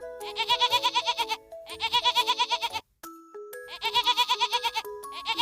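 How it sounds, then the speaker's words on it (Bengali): A goat bleats loudly and close by, three long wavering calls separated by short pauses, with no other sounds. "তারা ছাগলের ডাক শুনে কুয়োর কাছে এলো।"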